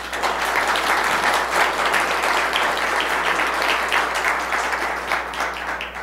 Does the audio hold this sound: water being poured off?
no